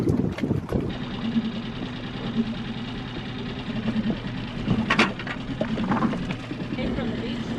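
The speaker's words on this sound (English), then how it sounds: "And we've got some heavier wind coming now, so Ryan's just replacing our lines" Strong wind buffets a sailboat at anchor in a Turkish bay, a steady low rumble of gusts and flapping across the microphone with occasional knocks and rattles aboard, sustained throughout.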